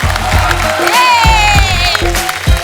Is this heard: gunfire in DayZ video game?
no